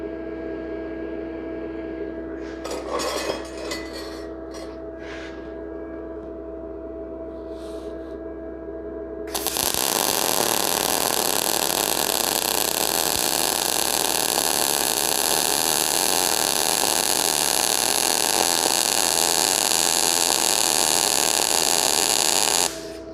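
A Tooliom TL-200M budget MIG welder starts after some quiet clicking and handling, then a loud, steady buzzing hiss of the arc runs unbroken for over ten seconds.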